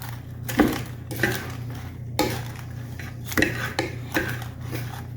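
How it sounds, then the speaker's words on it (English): Lettuce salad is tossed with dressing in a bowl, and serving utensils scrape and clatter against it in repeated short bursts at an uneven pace. A low steady hum runs beneath, with no clear talk. "what you want to do is toss the lettuce gently, and then you get all that nice dressing on each leaf of lettuce"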